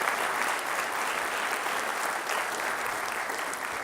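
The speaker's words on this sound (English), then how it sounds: "Let's give them a round of applause." Sustained applause from an audience at a Long Beach development update event, a steady, even wash of many hands clapping at moderate volume throughout, with no voices standing out.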